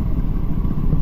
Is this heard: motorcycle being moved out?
yes